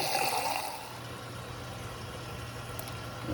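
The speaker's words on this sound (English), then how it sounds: "we'll go ahead and add some water until this is submerged" Water pours steadily into a pot while preparing a homemade deer mount, a continuous splashing rush at close range over a low background hum, with no talking.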